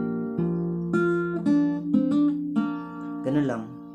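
Acoustic guitar strummed through a chord sequence from a song lesson: about six strums with ringing sustained notes, close and clear, with no talk over it.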